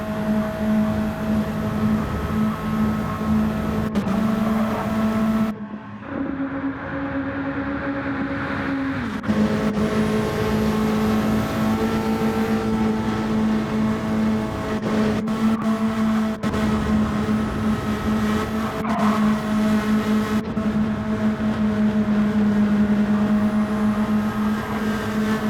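A long pack of stock cars drafting nose to tail around turns 3 and 4 of the Daytona oval in Gran Turismo 7, with a steady loud engine drone and brief changes in pitch as cars pass.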